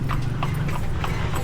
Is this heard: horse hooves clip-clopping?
yes